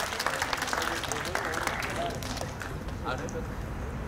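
Audience clapping at the opening ceremony of a biennale at the Gimhae Cultural Center, a dense, steady patter lasting throughout with a voice talking over it.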